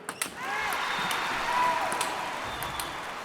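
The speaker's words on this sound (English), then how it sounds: "Crowd starting to get into the game as the rally starts building." Crowd noise from a London 2012 video game swells into steady cheering as a rally builds, preceded by a couple of sharp ball hits, with a tonal game chime partway through.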